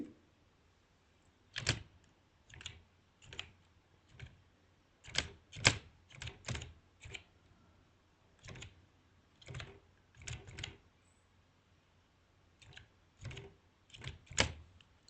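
Fingers typing a birth registration number on a computer keyboard, with crisp keystrokes in short irregular bursts separated by brief pauses, close and clear in a quiet room without talk.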